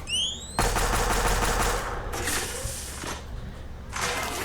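A death ray weapon in the video game Mad City opens with a rising charge-up whine, then blasts into a loud, sustained roaring beam of fire, followed by two shorter bursts with gaps between them.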